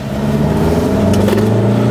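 A 2019 VW Tiguan engine revs in sport mode, a steady sustained drone with low rumbling harmonics and a slight rise in pitch partway through, close and fairly loud with no talking.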